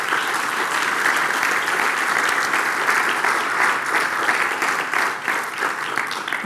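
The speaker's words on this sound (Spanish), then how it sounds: "Dale un fuerte aplauso al Señor." A church congregation applauds the Lord in sustained, dense clapping that stays loud and even throughout, with no break.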